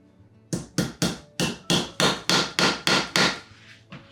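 A run of about ten sharp, solid mallet taps in a steady rhythm, loud and close, with nothing else heard.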